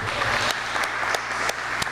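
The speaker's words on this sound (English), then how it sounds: "Let's give another round of applause for Jim." Applause fills a forum gathering, a steady broadband patter of many hands at moderate level with a few sharper claps standing out, brief and without talk.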